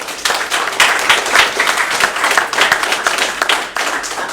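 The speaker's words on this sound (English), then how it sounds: "let's give them a round of applause" A debate audience gives a steady round of applause, with dense, continuous clapping close by that swells and dips slightly throughout, with no voices over it.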